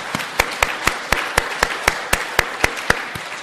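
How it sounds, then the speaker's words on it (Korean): A church congregation claps in honor of war veterans; the sharp, evenly spaced claps sound close and regular, like a few hands clapping together in rhythm, with no speech. "우리의 박수를 한번 크게 해주시기 바랍니다"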